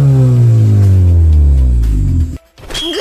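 A car engine fitted with an upgraded exhaust revs hard and loud, then its smooth, deep note winds down in pitch over about two seconds before cutting off abruptly, with a brief rumble returning at the end.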